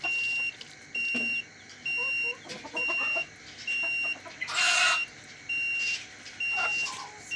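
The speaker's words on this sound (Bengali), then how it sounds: "এই একটা মুরগি বের হয়ে গেছে।" Chickens cluck in short bursts on a poultry farm while a steady electronic beeping repeats at regular intervals, with no talking.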